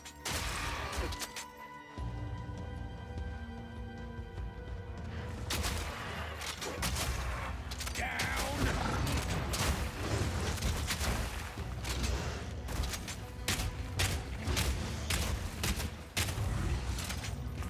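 Rapid volleys of ordinary rounds fired in Path of Exile 2, dense bursts of sharp shots layered with impacts and game effects, continuous and fairly loud throughout.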